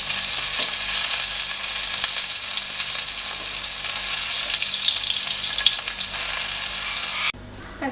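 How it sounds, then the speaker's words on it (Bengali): Pieces of meat for a pasta dish fry loudly in a pan, a dense continuous sizzle with occasional stirring scrapes, cutting off abruptly near the end. "তো দেখতে পাচ্ছেন এখন মাংসগুলো ভাজা হয়ে গেছে"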